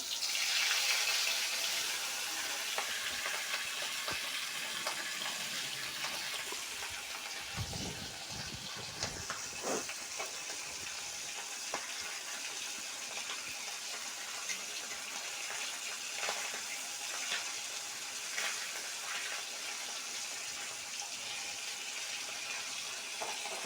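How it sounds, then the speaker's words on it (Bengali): Pomfret rubbed with salt and turmeric is frying in hot oil, giving a steady, close, broadband sizzle that lasts throughout. The hiss stays even and continuous, with a few brief spits and crackles, and no voices are present. "তেলটা গরম হয়ে গেছে, আমি মাছটা ছেড়ে দিচ্ছি।"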